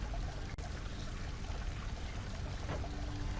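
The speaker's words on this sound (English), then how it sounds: "The river Styx is right in front of you and you don't see anything, Zag?" Steady, dense rushing of the river Styx flowing in the underworld of the video game Hades, a continuous pouring wash of water with no breaks and no talking.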